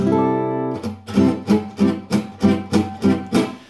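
An acoustic gypsy jazz guitar C6/9 chord rings out, then is strummed rhythmically in short, evenly spaced bursts, close and fairly loud.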